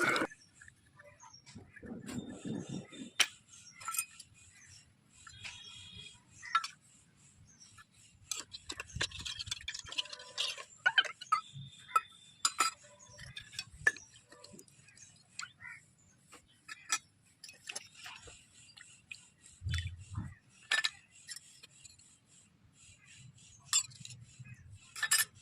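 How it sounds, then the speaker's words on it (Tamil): Dishes and utensils being washed, scattered close clinks and taps of metal cutlery and pots, some sparse and some in quick clusters, with a few low thumps and brief splashy rustles in between. "ஒரு வழியாக ஜாமானை கழுவி முடிச்சாச்சு"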